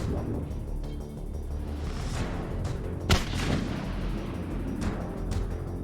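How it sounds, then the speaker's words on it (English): Grenade explosion in the sci-fi shooter Mass Effect 3, a sharp blast midway through ongoing combat noise with scattered shots and booms around it. "Did he throw a grenade at himself on accident?"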